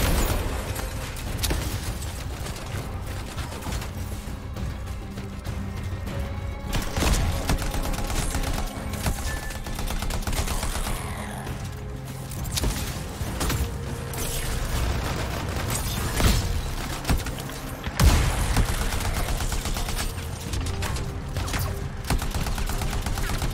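Sustained gunfire while shooting at scar hives in a video game, dense rapid bursts and pops layered over rumbling mechanical game noise throughout, with a louder blast near the end.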